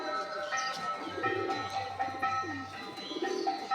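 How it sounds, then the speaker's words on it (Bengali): A Giribaz high flyer pigeon coos in short, low, repeated phrases close by, with low voices murmuring in the background. "খুব সুন্দর পায়রাটা, দেখি চোখটা"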